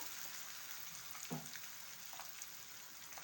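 Pumpkin with ginger and garlic paste fries in a pan: a faint, steady sizzling hiss with a few soft scrapes of stirring.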